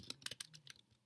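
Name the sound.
typing code on a computer keyboard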